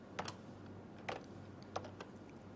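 Computer keyboard keys are tapped in a few quiet, sparse clicks over a low steady hum, with no talking.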